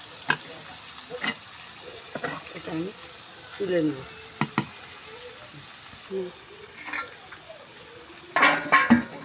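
Sweet pumpkin frying in oil in a pan, a soft, low sizzle under intermittent spatula scrapes and clinks of metal, with a voice speaking briefly near the start.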